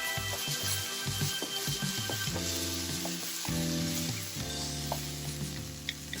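Chopped coriander stems stir-fried in a hot pan for Thai basil beef (pad kra pow), a steady close sizzle with scraping stirs and clinks of the utensil against the pan throughout.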